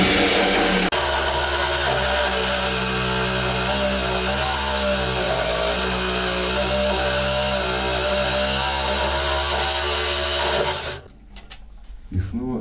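Electric jigsaw cutting through material during home carpentry, a loud continuous buzzing whine held steady for about ten seconds before stopping abruptly, leaving quiet room tone.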